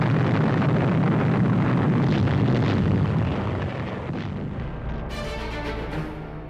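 Thermite grenades destroy German big guns on D-Day in Normandy: a heavy, rumbling blast roars for a few seconds, then decays into a fizzing, crackling hiss with faint ringing overtones.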